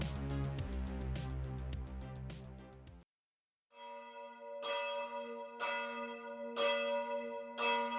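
Church bells ring out loudly in overlapping peals, then after a brief silence, a bell tolls repeatedly with long ringing hum between strikes.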